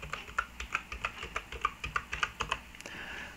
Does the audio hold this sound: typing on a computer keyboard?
yes